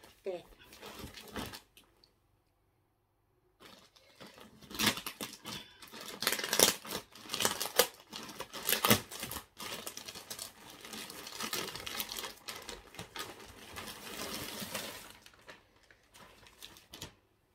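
A parcel holding a 100-baht dress is torn open and unwrapped, with rustling, crinkling plastic and tearing in close, busy bursts. There is a short silent gap near the start.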